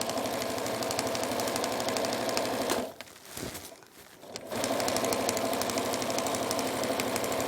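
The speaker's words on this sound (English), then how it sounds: "I'm sewing with about a 1/2 inch seam allowance." A sewing machine stitching window shade fabric with roughly a half-inch seam, running in a fast, steady mechanical rattle, close and loud, with a brief slowdown and pause midway before resuming.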